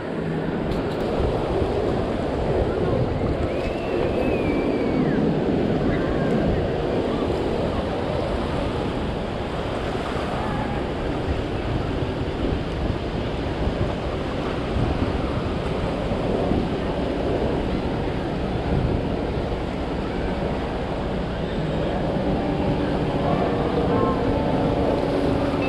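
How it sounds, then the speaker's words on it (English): Strong wind sweeps across an ocean shore during halibut fishing, a loud, continuous roar blended with breaking surf and buffeting against the microphone for the whole stretch. "The wind picked up, so that kind of killed the casting."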